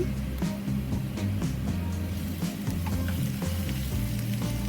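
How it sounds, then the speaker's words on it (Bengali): Ginger and garlic paste fries in hot oil for a bottle gourd and eggplant curry, giving a steady, close, dense sizzle that runs unbroken throughout over a low background hum. "আদা বাটা রসুন বাটাও একটু ভেজে নিব কাঁচা গন্ধ চলে যাওয়ার জন্য"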